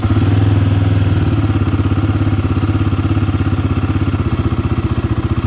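A Royal Enfield Guerrilla 450 motorcycle engine runs close and loud at a lumpy idle, settling from a heavy rumble into an uneven, rhythmic thumping pulse with a slight mechanical clatter.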